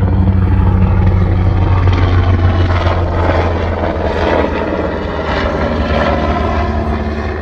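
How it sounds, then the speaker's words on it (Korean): A military helicopter passes overhead in Israel, a loud, steady rotor and engine roar that fills the whole stretch and eases slightly toward the end, with no voices. "이스라엘이다 보니까 막 군용 헬기 지나가고"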